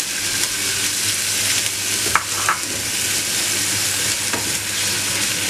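Ground onion paste sizzles steadily in hot oil in a pan, with a few scraping stirs of a spatula in a home kitchen. The frying hiss is constant and close, with no talking.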